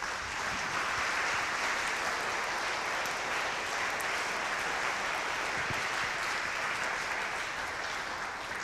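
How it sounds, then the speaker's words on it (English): A school concert crowd at a high school symphonic band and wind ensemble performance claps steadily, a dense, even wash of applause that holds at a moderate level for the whole stretch with no voices over it. "If we could acknowledge them with a round of applause"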